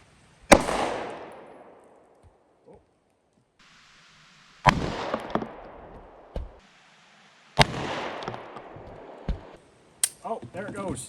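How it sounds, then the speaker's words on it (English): A Beretta M9A3 9mm pistol fires at a red bowling ball outdoors. Three loud, sharp shots come about three seconds apart, each with a ringing, fading tail, followed by a cluster of quicker pops near the end. "next up I have the Beretta M9A3 9mm versus the red bowling ball."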